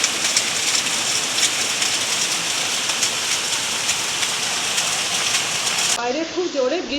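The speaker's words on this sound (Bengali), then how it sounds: "দেখো খুব জোর বৃষ্টি হচ্ছে।" Heavy rain pours outside, a loud steady hiss of drops on surfaces running without break. The roar cuts off sharply near the end, when a faint voice is briefly heard.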